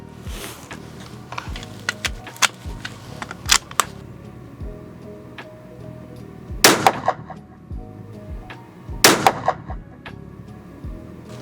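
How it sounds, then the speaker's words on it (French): A rifle fitted with a newly mounted HIKMICRO ALPEX 4K Lite scope fires shots at a target. Two sharp, loud reports stand out among scattered quieter clicks and handling noises. "maintenant on va pouvoir lâcher donc notre première balle"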